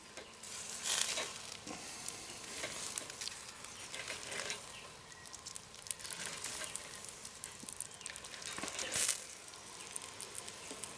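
Marron sizzling over a campfire at a solo outdoor camp, a soft continuous crackle and hiss with occasional sharper pops, heard faintly and alone.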